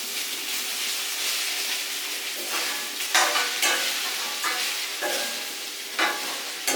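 Rice flakes are stirred into a fried mixture in a pan, producing a steady hiss with bursts of scraping and rustling as the spoon turns the food, close and fairly loud.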